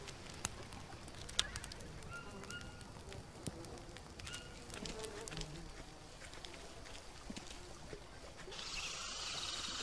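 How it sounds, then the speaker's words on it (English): Jungle ambience in the survival game Green Hell, with a macaw or toucan calling amid steady insect buzzing and scattered bird chirps over about ten seconds, a few sharp clicks near the start and a brighter hiss toward the end. "Oh, a macaw or a toucan or something, voicing his displeasure"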